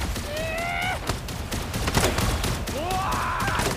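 Repeated gunshots in a firefight in the mecha battle game Super Mecha Champions, sharp shots and bursts over busy game effects and rising synthetic tones.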